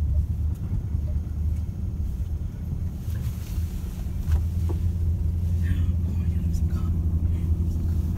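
A car engine hums low and steady as a teenage girl learns to drive, with wind buffeting and road rumble throughout and voices talking faintly over the drone.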